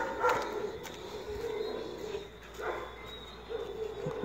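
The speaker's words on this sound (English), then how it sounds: "She's hearing dogs, so she don't want to go with dogs over there." Dogs bark far off outdoors during a morning walk, faint and sporadic over a steady background hum.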